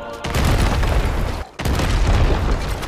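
A statue blown up in Far Cry 5 sets off a loud, deep roaring blast that rumbles for over a second, breaks off briefly, then comes back as a second sustained explosive roar.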